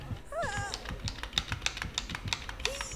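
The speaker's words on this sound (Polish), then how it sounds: "Tak wiem, że słychać klawiaturę." Rapid clicks of computer keyboard typing run throughout, close and moderately loud, with brief chirpy sounds and a short vocal noise mixed in.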